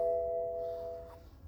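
Electronic warning chimes inside a BMW X3 during an ECU remap, a sustained two-tone ding that rings out and fades over a low background hum, with no talking.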